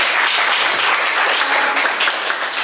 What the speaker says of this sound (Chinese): 好，给他一个热烈掌声。